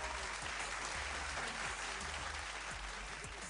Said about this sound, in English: team g clap for yourself